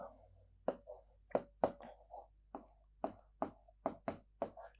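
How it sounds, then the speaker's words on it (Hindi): A pen or marker writes a heading on a board, making a series of short, crisp scratching strokes in an irregular rhythm. The strokes are close and moderately loud, with no talking over them. "पहले हेडिंग लिख दूं यहां पे, ट्रांजिस्टर"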